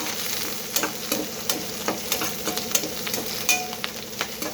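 Onions frying in two spoons of oil make a steady close sizzle broken by regular spatula taps and stirring clicks, with no talk.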